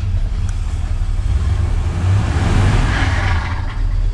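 A 1977 Chevrolet C10's small-block V8 idles loudly and steadily with a deep, continuous rumble, a faint ticking rattle riding on top and a slight rise in revs partway through.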